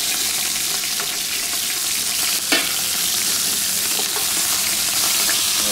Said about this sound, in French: je colore mon plat de côte et mon paleron